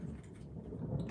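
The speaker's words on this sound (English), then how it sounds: "Y'all heard that thunder?" Distant thunder rumbles low and steady beneath faint rain, a continuous soft roll heard at a distance with no voices over it.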